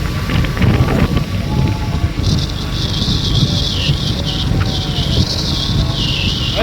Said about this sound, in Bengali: এখন বৃষ্টি হচ্ছে, বৃষ্টি